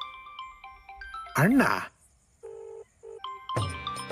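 A mobile phone ringtone plays short electronic melodic tones in bursts, interrupted by a loud swooping sound effect, with a brief spoken word.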